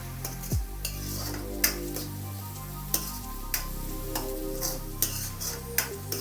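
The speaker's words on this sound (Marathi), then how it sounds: "लसूण पेस्ट टाकल्यानंतर थोडं परतायचं त्याला." Garlic paste sautés in oil for pav bhaji with a soft, quiet sizzle, while a spoon scrapes and taps the pan in a slow series of light clinks.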